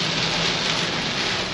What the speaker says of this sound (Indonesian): Hujan deras dan angin rekan-rekan.